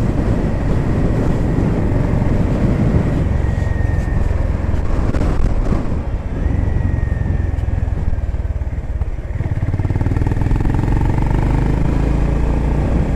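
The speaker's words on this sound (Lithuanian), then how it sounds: "Bet švelniai dirbo motoras" A Honda GB350S single-cylinder motorcycle engine runs steadily and fairly close, with a smooth low rumble that briefly swells as the throttle is blipped, no talking over it.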